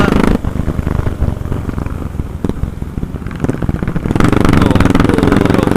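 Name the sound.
motorcycle engine roaring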